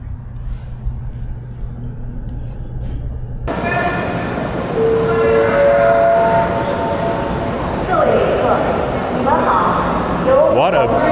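A train at Shapingba station in Chongqing, China, rumbling close by under a busy station din, with rising tonal whines as it moves; voices of people are audible throughout.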